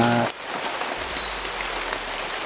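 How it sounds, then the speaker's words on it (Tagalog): Loud, steady downpour of rain hissing and pattering on nearby surfaces throughout. "Malakas yung ulan"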